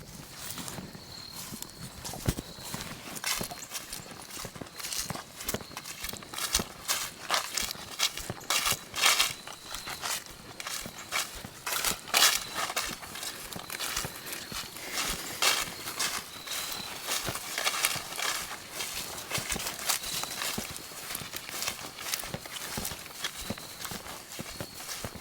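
Draft horses walk outdoors, their hooves clip-clopping in an irregular, continuous patter at moderate distance, with faint background ambience and no voices.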